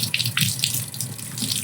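Tap water running steadily into a sink while resin print parts are separated, a close, hissy splash with small bursts of brighter spatter.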